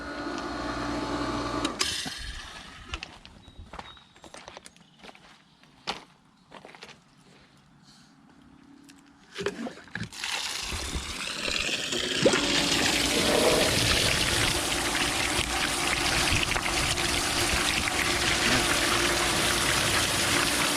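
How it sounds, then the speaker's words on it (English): A pool sand filter backwashes, with handling clatter and brief trickles before water suddenly gushes out at about ten seconds into a loud, steady rushing flush. "let's go ahead and shut the pump off and we'll do another backwash here and get this thing ripping again"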